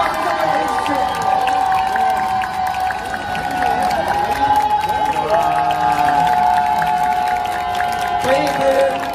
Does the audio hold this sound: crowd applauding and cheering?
yes